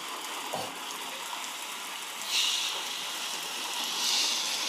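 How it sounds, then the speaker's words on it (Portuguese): Steady rain hiss during children's play in a little tent fort, a broad even wash that swells louder twice, with no voices over it. "Vamos aumentar a chuva? Você quer aumentar a chuva? Ó, vai aumentar a chuva"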